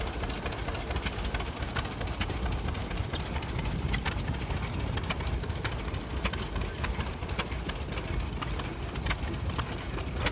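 Small antique stationary engines run at an outdoor flywheeler show in Arizona, producing a dense, continuous mechanical clatter of rapid repeating ticks and chuffs that stays steady and fairly loud, with no voices.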